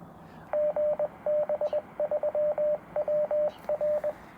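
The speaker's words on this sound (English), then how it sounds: "you can hear the bleeps" Ham radio transceiver sending DTMF-style bleeps: several short bursts of clipped electronic tones in quick irregular groups, loud and close over a low hiss, with no talking.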